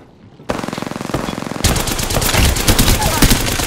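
Apex Legends gunfire: after a brief quiet start comes rapid automatic fire, then a louder, denser burst of continuous shooting, close and loud.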